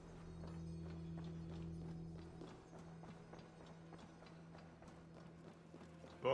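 Horse hooves clip-clopping in a steady trotting rhythm while riding in Assassin's Creed Valhalla, moderately loud and even, with a faint game ambience underneath.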